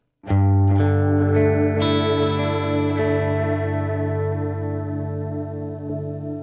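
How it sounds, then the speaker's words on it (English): A single electric guitar chord rings out and slowly decays, its delay repeats modulated by wow and flutter, warbling and wavering in pitch as they fade. "you can really hear the delays modulating"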